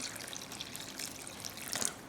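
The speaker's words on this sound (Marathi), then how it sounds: "आता हा साबुदाणा तरंगेल इतपत यामध्ये पाणी घालायचं" Water trickles and splashes softly into a container of sago, a quiet uneven pour with small drips, growing slightly louder near the end.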